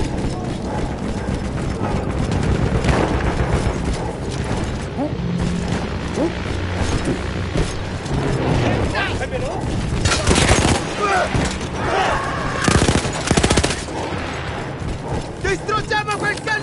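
Battlefield 1 combat rattles with bursts of automatic fire from a mounted anti-aircraft gun, mechanical clanks and booms, dense and loud, with voices talking through the action.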